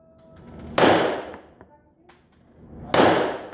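Two sharp, loud gunshots ring out at an indoor shooting range, each a sudden blast with a decaying echo, spaced about two seconds apart with faint clicks between.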